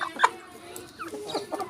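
Hens and chicks of double-body Bheemavaram cross breed cluck and peep at a poultry farm, several short calls close by, scattered over a quiet background.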